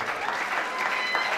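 An audience applauds the actors of the film Maswife by Mora Etienne Junior at their presentation, a dense, even wash of clapping that holds steady for the whole moment, with no speech over it.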